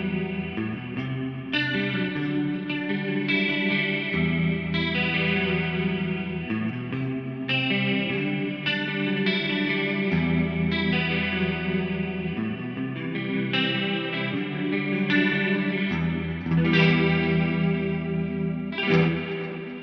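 An electric guitar plays through a Mooer GE300 Lite set to an LA-2A-style studio compressor, giving clean, even, chorus-tinged chords and single-note phrases with smooth sustain and no talking.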